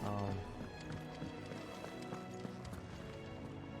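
Horse hooves clip-clop in the Final Fantasy 16 video game, a steady run of light rhythmic hoofbeats set in a dense musical game soundtrack, with a voice speaking over it.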